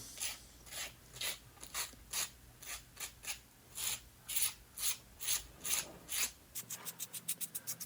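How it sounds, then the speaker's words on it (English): Rhythmic scraping strokes of sandpaper on a concrete bonsai pot, repeating back and forth, then a quicker run of short rasping strokes at the end. "it's a good chance to do a little sanding on it"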